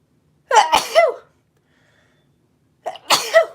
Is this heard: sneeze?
yes